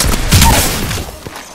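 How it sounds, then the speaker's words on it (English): Gunfire hits the player in Apex Legends, a loud, close burst of rapid shots and impact thuds that fades out quickly. "They spotted me. I'm taking shots."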